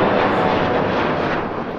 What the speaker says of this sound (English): Is that your plane taking off?